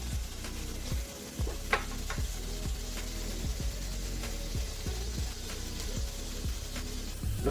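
Chopped vegetables for New Orleans Cajun jambalaya sizzle in a hot pan. A soft, continuous fry runs under rhythmic scraping strokes of a spoon stirring roughly every half second, close and moderate in level.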